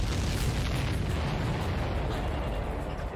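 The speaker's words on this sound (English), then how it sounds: "Did you see that explosion? Looks like that's one of them down." A muffled, sustained blast of an enemy supply ship exploding in the combat flight game Ace Combat 7, a dense rumbling roar that holds fairly steady and low in level across the clip.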